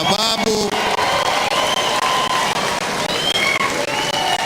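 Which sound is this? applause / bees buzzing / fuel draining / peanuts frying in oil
applause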